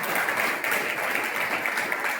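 A crowd at a church youth meeting claps in praise, producing continuous, dense applause that holds steady at a fairly loud level throughout, with no clear voices on top.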